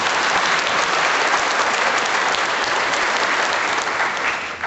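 Sustained applause from a town hall audience, dense and steady throughout, tapering slightly at the very end.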